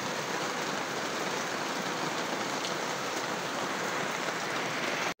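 Steady, dense rain pours down on a surface, a constant hiss of drops with no voices.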